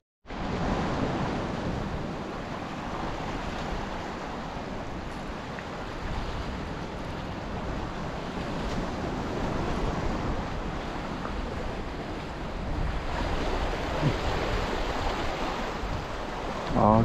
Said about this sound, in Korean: 지금 파도가 심해가지고